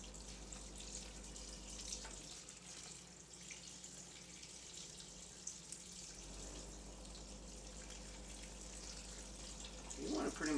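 Steady rushing water pours continuously from a pitcher into a pressure cooker pot of split peas, a soft hiss throughout that swells slightly louder near the end.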